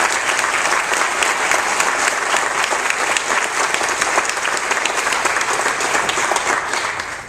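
A large audience at a nursing pinning ceremony applauds steadily and loudly for the whole stretch, a continuous wash of many hands clapping.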